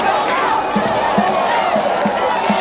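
Protesters at a campus encampment clash with police, with a crowd roaring in a continuous dense mass of voices and evenly spaced low thumps under the din.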